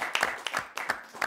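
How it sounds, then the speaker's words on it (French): A studio audience at a television show claps in a short, moderately quiet burst of applause, with scattered claps overlapping. "on peut l'applaudir, bravo."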